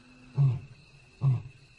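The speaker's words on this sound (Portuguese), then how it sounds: "Outro rugido é ouvido, muito mais perto dessa vez." Lion in the wild giving two short, deep grunting roars at an even pace, close by and clear against a quiet background.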